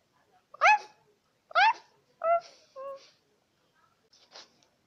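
A small pet dog gives several short, squeaky vocal calls in a row, fairly close, with brief silences between, trailing off into fainter sounds.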